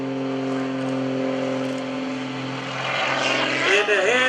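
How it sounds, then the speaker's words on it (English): Gary Ward's aerobatic propeller airplane drones loudly at the Greenwood Lake airshow, its engine note holding steady and then climbing and swelling as it maneuvers near the end, with a voice talking over it. "An airplane is not supposed to fly like that"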